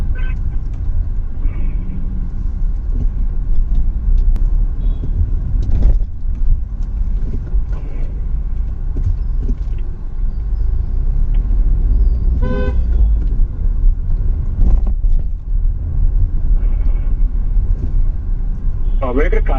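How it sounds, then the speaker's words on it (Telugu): Busy street traffic with a stream of motorbikes and cars, engines rumbling close by and horns tooting repeatedly, while people talk over the din. "నాకు ట్రాఫిక్ చూసారు కదండి, బైక్లు వస్తున్నాయి"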